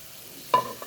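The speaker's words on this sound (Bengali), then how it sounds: "এবারে আমি পালং শাকগুলো দিয়ে দেব কেন কি পালং শাকগুলোকে সেদ্ধ হতে হবে" Spinach stirred into a hot cooking pan for Bhutanese jaju, giving two short close scraping, sizzling stirs after a quiet start.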